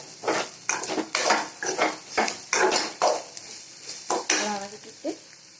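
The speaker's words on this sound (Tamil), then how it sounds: "நம்ம உப்பு போட்டு தான் நம்ம பாவக்காவை வதக்கிப்போம்." Bitter gourd sautéed with salt in a pan, giving a run of repeated scraping and clinking strokes of a utensil against cookware, close and moderately loud, in a steady uneven rhythm.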